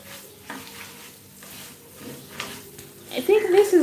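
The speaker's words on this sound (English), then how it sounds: "I'm going to start stirring our rice to mix all the onions together with the rice well." Fried rice with onions being stirred in a pan, soft scraping and sizzling sounds that grow louder near the end, with no talk over it.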